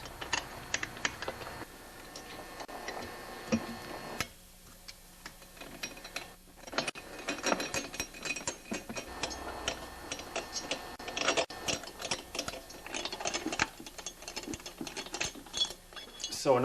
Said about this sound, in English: So insert your Allen wrench through here. You can use a pair of pliers to undo it first.